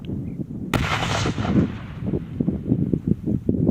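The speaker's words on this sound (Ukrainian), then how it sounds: "Їх знешкодили шляхом контрольованого підриву" A controlled detonation of cluster munitions by rescuers: one sharp, loud blast that rolls into a long rumbling, crackling echo in open air, with a series of uneven thumps trailing off afterward.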